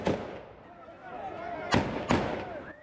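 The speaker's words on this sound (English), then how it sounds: "With volleys of gunfire" Volleys of gunfire from security guards at a Kabul airport gate, heard as two sharp, loud cracks late in the clip over a noisy crowd and voices.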